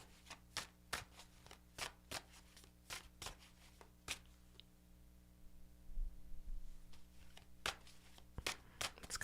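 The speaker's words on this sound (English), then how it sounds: "while I do a little bit more of a shuffle on your deck" Sharp riffling snaps of a card deck being shuffled in bursts, pausing briefly midway before another quick run of shuffles, close and fairly quiet.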